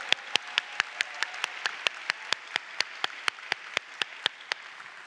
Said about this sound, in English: So let's have one more round of applause for Nick, Priya, and Dan, our demo team.